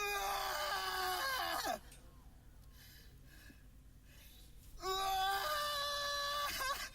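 Screaming from a video clip played back, two long, loud, strained wailing screams separated by a quieter stretch of low sound, each ending in a sliding drop in pitch.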